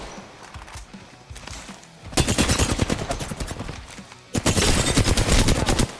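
Rapid automatic gunfire in the battle royale shooter Apex Legends, two sustained loud bursts of dense shots separated by a quieter stretch of distant firing, no talk over it.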